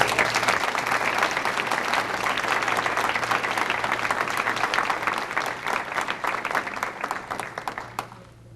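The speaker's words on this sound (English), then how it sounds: "give him another big round of applause" Crowd applause at a martial arts seminar: sustained, crackling clapping from many hands that stays strong for most of its length, then thins and fades out near the end.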